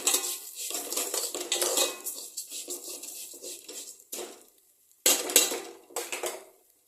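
A metal spoon scrapes and clatters against a pan while chicken biryani ingredients fry over medium heat, with irregular bursts of stirring, short pauses and a faint sizzle underneath.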